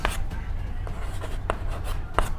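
Pen or chalk writing during a Class 10 math lesson, a run of scratchy, irregular strokes and taps at close range over a low background hum, with no talk.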